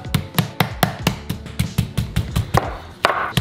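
A butterflied chicken breast is pounded flat under plastic wrap, about a dozen sharp, close thuds in a quick irregular rhythm, loud and dry in a kitchen with no talking.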